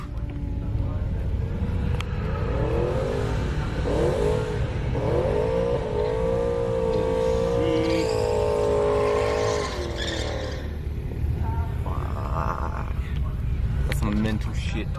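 Drag racing vehicles revving and launching on a track, loud rising engine whines and roars sweeping up and down amid crowd noise, with people talking nearby over the din.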